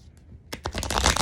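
A deck of tarot cards is shuffled up close, a quick run of crisp riffling flicks that starts after a short pause and speeds into a dense flutter.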